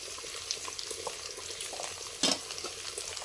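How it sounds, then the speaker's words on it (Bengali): Cauliflower and whole spices fry in hot oil as turmeric and chili powder go in, giving a close, busy sizzle with light stirring clicks and a brief louder hiss near the end. "ভেজে নিয়েছি ফোড়ন দিয়ে এবার দিয়ে দিচ্ছি হলুদ ঝাল লঙ্কার গুঁড়ো"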